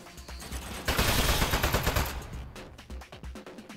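An Aperture Desk Job turret firing in the video game, a loud rapid burst of automatic shots lasting about a second, then sputtering off into scattered trailing pops.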